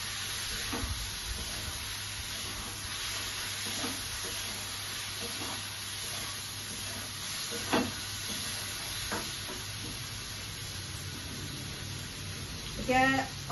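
Raw chilies and fried potatoes are stirred in a pan, hissing in a steady sizzle broken by a few spatula scrapes and a sharper clatter near the end, with a voice underneath.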